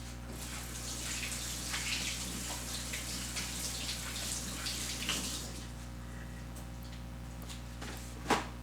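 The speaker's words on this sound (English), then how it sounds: "I'm gonna wash my hands." Water runs steadily from a tap while hands are washed under it in a kitchen, an even gushing wash with a sharp clink near the end.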